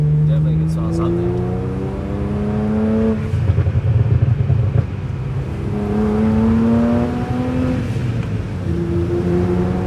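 BMW 335i with an MHD and JB4 backend flash burble tune, its exhaust rumbling and rising through revs with crackling pops midway, a voice talking over it.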